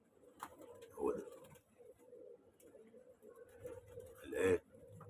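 Pigeon cooing in a loft or rooftop coop, a low repeated coo standing out twice amid quieter bird murmurs, with a voice speaking nearby.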